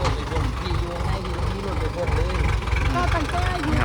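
A farm tractor engine idles nearby with a steady low rumble, and someone talks over it the whole time.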